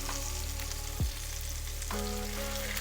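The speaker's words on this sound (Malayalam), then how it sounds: "എപ്പോഴും ലോ ഫ്ലെയിമിൽ വെച്ചിട്ട് തവ ഫ്രൈ ചെയ്യാം" Fish fries on a tawa over a low flame in Mangalore-style masala, giving a loud, steady close-up sizzle with a few brief clanks from a spatula.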